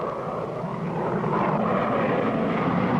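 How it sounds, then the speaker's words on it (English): Hatchett's plane droning in flight, a steady broadband engine roar holding constant and fairly loud for the whole stretch with no voices over it. "I see Hatchett's plane now."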